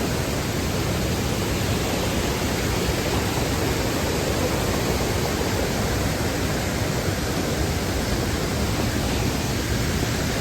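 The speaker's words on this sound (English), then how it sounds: "Here's the second waterfall." A Colorado waterfall roars as a dense, steady rush of falling water, loud and unbroken throughout with no voices.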